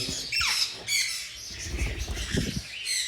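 A ringneck parrot at a pet bird sale in Islamabad gives several loud, harsh squawks close by, separated by short pauses and interspersed with lower chattering sounds.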